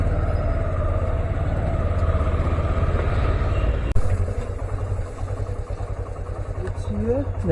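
Rapido bike taxi motorcycle idling at night, a steady low engine hum running alone, then a brief knock and softer rumble with faint street sounds.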